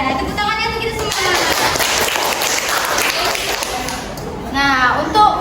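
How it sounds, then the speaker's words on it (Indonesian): A classroom of children in a fourth-grade lesson breaks into steady, loud applause for several seconds, with a teacher's voice speaking over the start and end of the clapping. "Ya, tepuk tangannya untuk kita semua."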